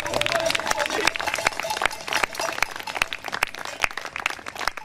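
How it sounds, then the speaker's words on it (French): Audience applause at a medieval show in Gonesse, a steady patter of many hands clapping close by, with some crowd voices mixed in. "Et des applaudissements."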